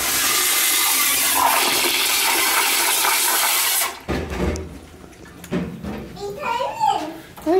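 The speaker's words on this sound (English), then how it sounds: "Okay, ready to flush at the same time?" A Sloan flush valve toilet flushes in a public library restroom with a loud close rushing roar that cuts off abruptly after about four seconds, followed by someone talking and clattering restroom sounds.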